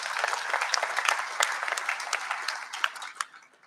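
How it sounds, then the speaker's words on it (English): Audience applause at a Lions Australia Leo of the Year event, a steady patter of many hands clapping at moderate distance that tapers off toward the end. "in absentia, give her a clap?"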